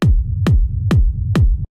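Four booming techno kick drums with a deep low rumble tail, played through a low, clean preset, hitting evenly about every half second, loud and upfront with nothing else in the mix.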